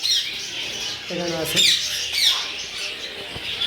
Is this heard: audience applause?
no